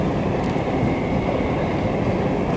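Montreal Metro subway train running toward Joliette station, a steady, loud rumbling roar of rails and wheels that holds level throughout with no voices.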